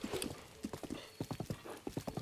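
Horse hooves clip-clop steadily along a path in Breath of the Wild, a close, regular trot of crisp hoofbeats with no talking.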